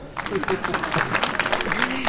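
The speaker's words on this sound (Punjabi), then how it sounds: "ਮਾਰ ਦੋ ਤਾਲੀਆਂ।" An audience at a gathering near the Wakha border in Ferozepur claps in a burst of scattered, uneven applause, with some voices mixed in.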